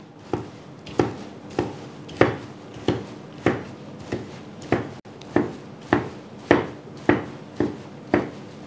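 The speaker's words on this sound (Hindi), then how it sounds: "अब यहाँ पे हमने इसको चिकन को चॉप कर" Chicken being chopped on a cutting board with a knife, in a home kitchen while making box patties: about fifteen sharp, steady chops spaced roughly half a second apart, close and clear, with no talking.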